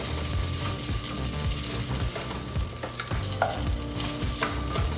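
Onion mixture being stirred in a hot pan over a flame: steady sizzling and frying with repeated scraping strokes of a utensil, close and continuous, no voices.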